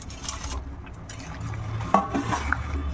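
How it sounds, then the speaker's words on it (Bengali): Fried lentil boras tumble into a pot of boiled potatoes with a wet, sloshing pour and a couple of sharp clinks of a utensil against the pot, all close and fairly quiet. "এখন এর মধ্যে এই বড়াগুলো ঢেলে দেবো।"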